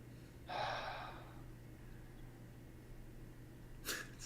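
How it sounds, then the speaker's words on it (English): Loud breathing from a man on a livestream: one strong noisy breath early, then a shorter sharp inhale near the end, both close and alone over a low steady hum. "This guy breathing loud."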